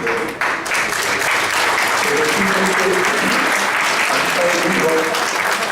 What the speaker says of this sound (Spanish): quiero recibir calurosamente un aplauso a Carlitos Orozco Ferriel